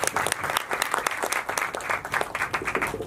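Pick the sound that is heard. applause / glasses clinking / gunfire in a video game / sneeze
applause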